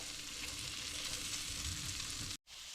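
Homemade pierogi fry in a pan as they brown on one side, giving a steady, close crackling sizzle that cuts out briefly near the end before resuming.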